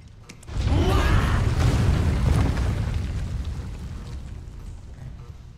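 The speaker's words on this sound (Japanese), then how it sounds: "爆発止まらねえな。" A massive explosion in Final Fantasy VII Remake erupts with a sudden heavy boom, then a long rumbling roar and debris whooshes that slowly fade over several seconds.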